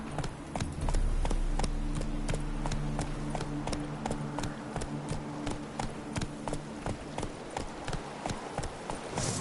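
Roach, a horse in The Witcher game, gallops with a fast, steady clip-clop of hooves that continues throughout, loud and close over a constant low rumble.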